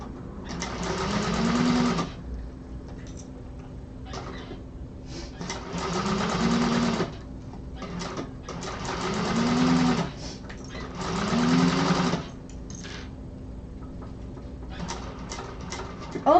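A sewing machine stitches straps in a quiet room. It runs in four steady bursts of about two seconds each, with brief pauses and softer handling noises between them.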